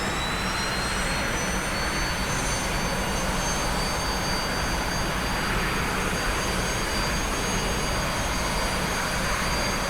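A T-45C jet trainer's engine in a flight simulator roars steadily and loudly as the throttle is increased, a dense continuous rush with high whining tones and no talking.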